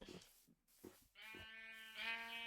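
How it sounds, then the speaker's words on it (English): Minecraft sheep give a few bleats in the video game, wavering and nasal, one long cry stretching to the end after a couple of soft thumps at the start. "Of course there's sheep on this side."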